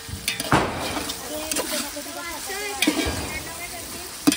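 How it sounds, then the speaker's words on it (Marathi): Chicken biryani ingredients fry in a large pot over a wood-fired stove, a steady sizzle with repeated stirring scrapes and clanks, close by, while people talk in Marathi in the background. "ज्योतिताई मुक्याने फ्राय करतायत"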